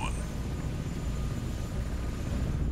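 Helicopter in an Armored Core 6 video game cutscene, a steady dense rotor and engine drone holding at even loudness throughout, with faint voice underneath.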